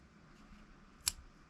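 A single crisp snip of scissors cutting crochet yarn on an amigurumi candy corn, one short close click over quiet room tone.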